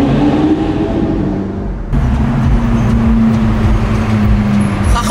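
A Lamborghini engine revving hard nearby, a loud sustained roar that cuts in abruptly and holds steady to the end, with the rising drone of the engine under a rough mechanical rumble.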